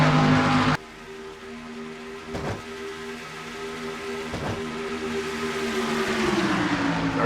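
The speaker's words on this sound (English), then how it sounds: "Field thundering into turn number 1 again as they go through." Stock cars in a sim racing series at Charlotte Motor Speedway, with a loud burst cutting off into a steady engine drone, a few brief thumps, and the pitch bending downward near the end.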